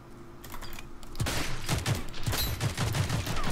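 Rapid bursts of gunfire in the video game Rogue Company, quiet clicks at first, then dense automatic shots rattling close and loud in quick succession.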